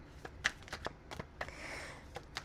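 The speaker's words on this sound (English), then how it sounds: "Let's shuffle these one more time." A tarot card deck is shuffled in a series of crisp, quick riffling bursts and soft slaps at close range, with a longer continuous riffle midway and no voices.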